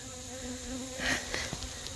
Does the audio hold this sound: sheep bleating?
no